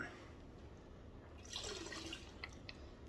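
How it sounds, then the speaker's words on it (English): Water splashing and trickling as a little is poured out of a 12 lb Lortone rock tumbler barrel, a soft burst of wet sloshing with a few drips after, fairly quiet and close. "I'm going to take just a little bit of water out."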